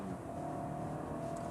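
A 2023 BMW 320i M Sport engine pulls smoothly in a brief acceleration, a steady close engine drone heard from inside the car, moderate in level with no voices.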